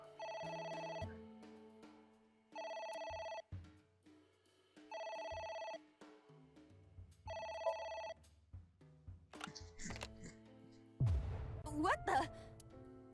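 Telephone ringing in the video game AI: The Somnium Files: four evenly spaced electronic rings with pauses between them, followed by scattered game sounds and a louder burst at the end.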